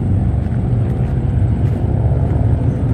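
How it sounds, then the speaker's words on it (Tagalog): Motorbikes, including big bikes, pass along an expressway, heard as a steady, loud low engine rumble with no breaks. "maingay yung mga naka-motorbike"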